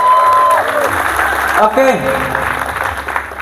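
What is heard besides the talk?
audience applauding for the teachers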